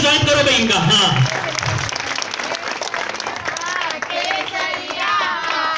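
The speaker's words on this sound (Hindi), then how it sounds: "तालियां बजा के स्वागत करो भाई इनका।" Audience at a welcome event for a newly elected council chair and vice chair claps to greet guests, a loud, sustained burst of applause heard under talk and other voices.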